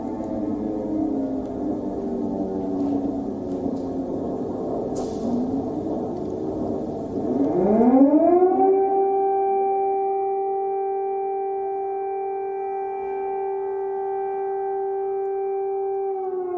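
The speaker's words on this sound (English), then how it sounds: "the evening, of course, started with a blaring air raid siren" An air raid siren blares in the evening during the Russian invasion of Ukraine, a loud wavering wail that rises into a long sustained howl, with no talking.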